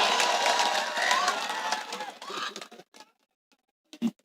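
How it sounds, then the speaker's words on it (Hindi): An audience at a Hindi kavi sammelan poetry event breaks into a dense burst of applause and cheering that fades after about two and a half seconds, leaving a few scattered claps and sounds. "और एक बार जोरदार तालियां बजाइए, जोरदार"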